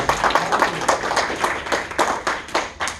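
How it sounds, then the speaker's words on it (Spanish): A church congregation claps together in a fairly rhythmic, steady pattern of sharp hand claps, close and moderately loud, with no voices over it. "le da un fuerte aplauso al Señor Jesús"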